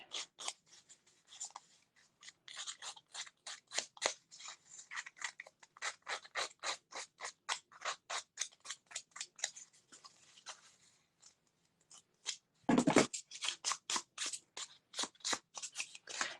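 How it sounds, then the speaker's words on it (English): Scissor blades scrape rhythmically along a paper edge to rough it up, a dense run of short rasping strokes close to the mic with a brief pause before a louder final flurry. "I'm going to take my scissors and I'm going to rough up this edge."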